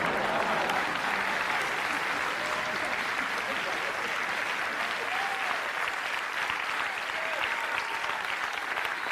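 Dense, steady applause from a theatre audience at a comedy detective show, loud and continuous throughout with no gaps, a crowd clapping together.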